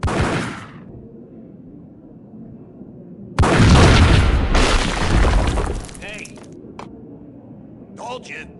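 An explosion in the Max Payne Mobile game on Android bursts in as a loud, roaring blast that lasts a couple of seconds. It fades into quieter scattered game noises.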